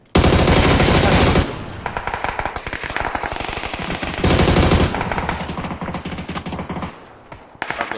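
Heavy gunfire from a shooter video game: long sustained automatic bursts hammer loudly and near, broken by short pauses and renewed volleys, with no voices over them.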